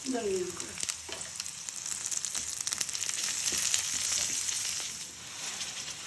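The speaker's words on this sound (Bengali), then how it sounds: "এখানে বাটা পেঁয়াজ রসুন ঢেলে দিচ্ছি" Onion garlic paste goes into a sizzling pan with a loud close hiss that swells and holds, with some stirring scrapes; a brief voice sounds at the very start.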